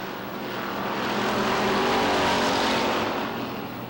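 Stock race cars at Lee USA Speedway roar down the backstretch in an October 1993 Oktoberfest race, a loud engine drone swelling as the pack nears and then easing slightly as it passes.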